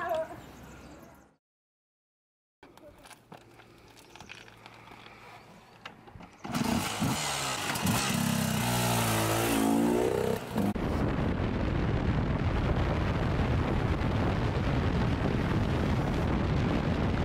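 A motorcycle engine fires up after a short silence, then roars loudly and steadily as the bike pulls away, with the engine noise continuing at full volume to the end.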